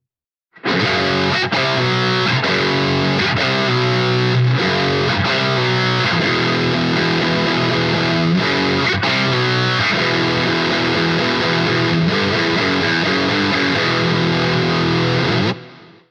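Distorted electric guitar plays a song at a faster tempo, a loud, continuous run of crunchy riffs with repeated rhythmic chord chops and no talking.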